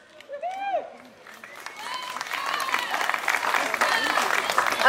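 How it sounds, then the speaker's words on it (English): Applause and crowd noise at a county fair talent contest, rising from a light start into sustained clapping and cheering with whoops, while a voice speaks over a microphone at the beginning. "let's give everybody a round of applause"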